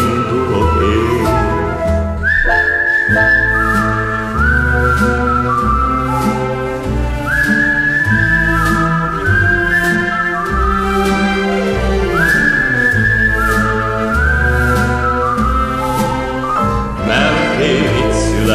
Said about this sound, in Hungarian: s fütyülve indulok én